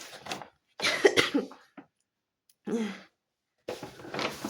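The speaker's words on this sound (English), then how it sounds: "I have small cough and catarrh." Several harsh, close coughs in quick bursts, separated by short silences, with no talking.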